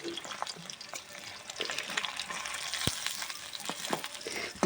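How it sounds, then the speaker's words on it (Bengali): Pieces of snakehead fish fry in hot oil in a home kitchen for a sour-spicy curry, giving a steady close sizzle broken by scattered pops and crackles, with no talking. "এইভাবে সবগুলো ভেজে নেব দেখি"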